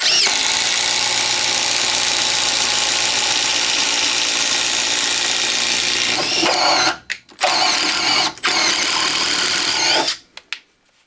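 A Makita XDT16 impact driver bores with a 3/4 inch speed bore bit: a loud, steady, buzzing whine runs for about six seconds, then breaks into a few short bursts before stopping.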